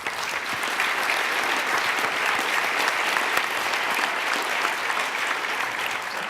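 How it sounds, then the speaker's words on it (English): Audience applause for the panelists at the close of an education summit lunch session on stage, a dense, steady wash of clapping that holds evenly at full strength throughout. "Please join me in giving a final round of applause to our panelists."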